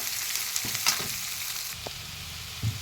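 Chopped onion frying in oil and being stirred in a pan for spiced rice, a steady close sizzle broken by a few scrapes and knocks of the spoon against the pan, with no talk.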